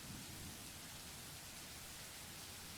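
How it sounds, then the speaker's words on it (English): Rain pouring down during a thunderstorm around an old house, a faint dense hiss of steady rainfall with a low rumble underneath and no talking. "Already I can hear the creak and groans of this old place as rain beats against the"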